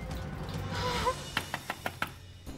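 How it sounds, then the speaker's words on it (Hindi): Knocking on a door in an indoor scene, five sharp raps in a quick even sequence after a murmur of faint background sound, moderately close and fairly quiet. "गुड्डन प्लीज दरवाजा खोलो, मुझे लेट हो रहा है।"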